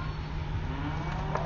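Cattle, including fat grain-fed cows, moo at a busy livestock market, a low bellow partly buried in constant loud crowd and yard noise.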